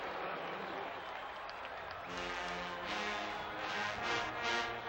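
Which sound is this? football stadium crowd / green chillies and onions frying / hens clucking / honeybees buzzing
football stadium crowd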